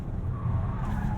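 Tesla Model 3 Performance tires squealing as the rear slides, a short close skid sound over the low car rumble.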